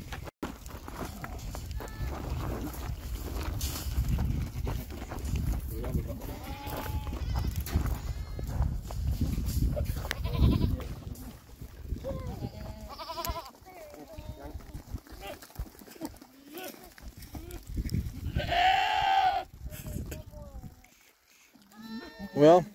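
Goats on a farm bleat several times, some near and loud, while the billy goats are separated from the nannies; people talk and call out throughout, and there are shuffling hoof and handling noises.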